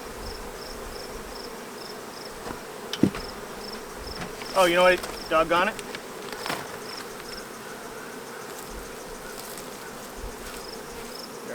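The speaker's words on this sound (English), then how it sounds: "I'm just going to try to push these bees out of the way." Honeybees buzz steadily around an opened hive with a vent box entrance, a dense close drone under brief speech from a beekeeper.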